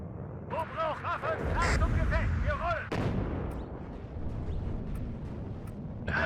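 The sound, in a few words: cluster rocket artillery fire in video game WARNO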